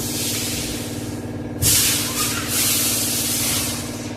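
Cumin seeds and five-spice tempering dropped into hot oil for a fish and taro dal, a loud sizzling hiss bursting in mid-clip over steady background hum, then settling into a sustained spitting fry.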